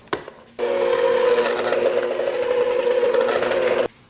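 An electric mixer whirs steadily as baking soda is stirred into a batter, starting after a brief knock and running loud and even for about three seconds before cutting off abruptly.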